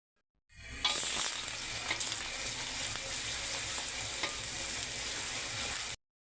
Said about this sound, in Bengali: আস্তে আস্তে ভেজে বাদামি কালার করে নিব।